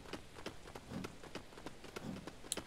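Steady patter of rain falling on a surface in the video game Lego Lord of the Rings, with soft rhythmic thuds like footsteps beneath it and a brief chime near the end.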